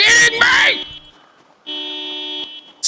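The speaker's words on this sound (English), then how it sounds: "Is that a car alarm?" A car alarm on a security booth in a zombie survival video game blares a steady, buzzing two-tone wail after a burst of loud, noisy clatter, sounding close and harsh.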